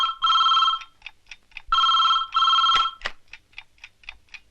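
An old telephone rings nearby in two long, bright double bursts, followed by shorter faint ringing taps in a quiet room.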